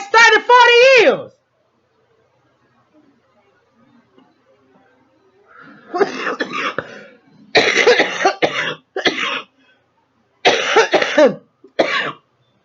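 A man coughs in several harsh, loud bursts close to the mic, grouped in uneven clusters with short silent gaps between them, after a brief voiced sound at the start.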